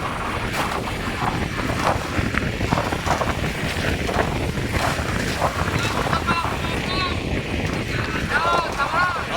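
A small outrigger bangka travels on open sea off Ilocos, with a constant loud rush of engine, water and wind buffeting the microphone while people talk over it.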